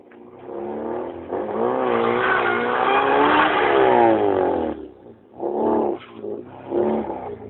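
A car spinning doughnuts on a track, its engine revving hard in a long rising and falling howl, then dropping out before a few shorter bursts of revving, loud and close.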